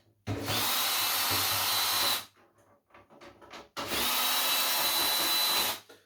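A power drill working through scrap circuit boards, two long steady bursts of loud whirring grind separated by a short pause filled with faint rattling and handling noise.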